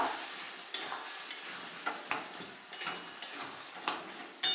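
A spoon stirs katla fish curry in a pan, making a regular series of about eight sharp scraping knocks against the metal over a soft simmering sizzle, close and fairly quiet.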